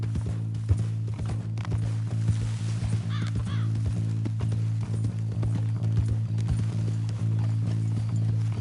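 Horse hooves clip-clopping at a steady walking pace in Red Dead Redemption 2, a continuous rhythmic clatter over a low humming background, with no talk.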